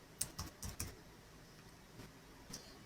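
Quiet typing on a computer keyboard: a quick burst of about four keystrokes, then a few sparse, soft clicks alone, close and fairly faint.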